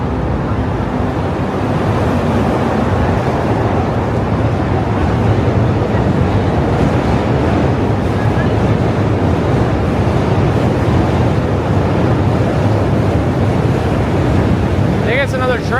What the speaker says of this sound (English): I think it's another train.